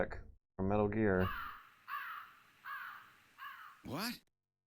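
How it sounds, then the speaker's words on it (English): A crow in the video game Snatcher gives a run of loud harsh caws, four or five evenly spaced calls standing alone after a brief burst of game sound. "it's just a crow"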